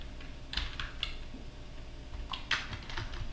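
A computer keyboard being typed on in a few quick, light key taps, close and fairly quiet, with no voices.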